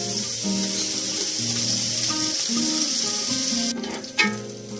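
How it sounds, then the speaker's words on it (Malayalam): Sliced onions sizzle and crackle in a pan of ghee and sunflower oil for a biryani, a loud steady hiss that suddenly drops away near the end, followed by a brief clatter. "സവാള ഇട്ട് കൊടുക്കാം നമുക്ക് അതിനകത്തേക്ക്."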